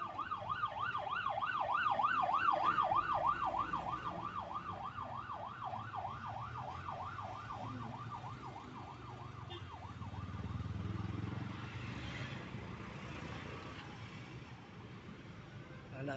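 Police siren wailing in rising and falling cycles for several seconds during a tricycle ride in Noveleta, Cavite, fairly close over road rumble before fading out.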